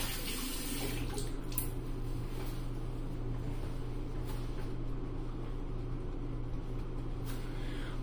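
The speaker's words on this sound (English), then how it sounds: "All right, let me rinse off cold water." Cold tap water runs steadily into a sink as shaving lather is rinsed off a face, a close, continuous hiss and splash with a low hum beneath and no talking.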